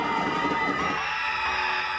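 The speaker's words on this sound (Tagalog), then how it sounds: "Pinuno ng hiyawan at palakpakan ng mga manonood ang plaza ng San Isidro" Crowd of spectators cheering and shouting in the San Isidro town plaza during a local pageant, a dense, continuous roar of voices with the loudest burst in the first half before settling into a steady wash of noise.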